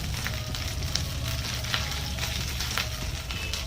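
Ginger paste and Kashmiri chili powder sizzle steadily in hot oil with black and white cumin, a close, continuous crackling hiss with faint stirring, no voices.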